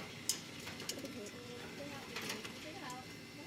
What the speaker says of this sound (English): These birds are really good.